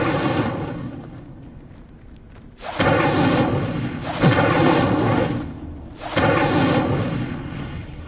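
Three loud whooshing fire-spell blasts from the Incendio charm in Hogwarts Legacy, each a broad roaring burst lasting over a second, spaced about every one and a half seconds after a quieter lead-in.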